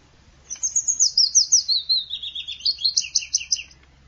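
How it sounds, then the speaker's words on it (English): A willow warbler song played back on radio, a single clear phrase of sweet rapid notes that starts high and descends, about three seconds long, alone with no talk. "So with the willow warbler, have you got access to that to the little bird song again?"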